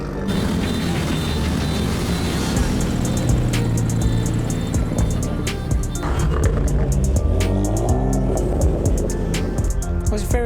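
A supercar pulls away from a car meet, its loud engine roaring steadily up close through the whole stretch, with crowd chatter and people talking underneath.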